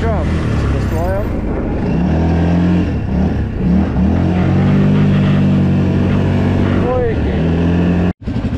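A 4x4 ATV engine running in a forest, a loud steady near motor drone with rising and falling revs, a voice talking over it, and a sudden cut near the end.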